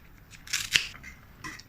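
Scissors snip pandan leaf into small pieces for coconut jam, several quick, close, crisp cuts in a short burst, with one sharper snip in the middle and a final cut after a brief pause.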